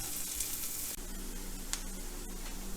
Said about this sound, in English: we're going to cook this on a medium-low heat for 10 to 15 minutes, just to get the onions nice and cooked